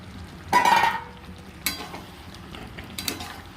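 A spoon stirring chicken curry with fried cauliflower in a pan, giving a few scraping, sizzling strokes separated by quiet simmering.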